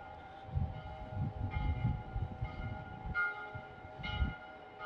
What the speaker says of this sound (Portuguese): A igreja tocando o sino aí.